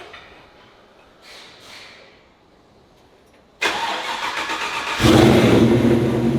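A Land Rover Defender 90 fires up after fresh paint work: quiet workshop ambience, then the starter catches abruptly and the engine settles into a loud, close idle before rising to a stronger rev near the end.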